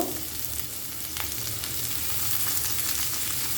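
Chopped garlic and onion frying in oil in a pan for radish bharta, a steady close sizzle with soft stirring scrapes, continuing without speech.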